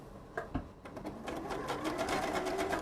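A sewing machine stitches elastic onto a fabric mask, a couple of clicks followed by a steady, rapid mechanical whir, close and fairly quiet.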